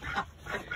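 Domestic ducks and geese at a Monday morning feeding parade, honking and quacking excitedly in a busy cluster, loud and close throughout.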